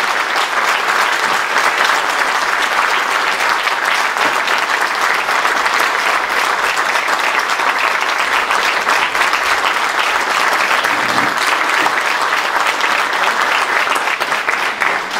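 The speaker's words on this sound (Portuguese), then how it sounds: "todos os canidelenses o aplaudem, Sr. António Francisco, num gesto laudativo da mais profunda amizade e da mais sentida gratidão" An audience at a Portuguese ceremony applauds, a dense, loud, sustained clapping from many people that runs evenly throughout without pause.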